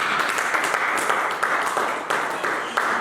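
A church congregation applauds continuously, dense rhythmic clapping from many people filling the room with steady intensity throughout.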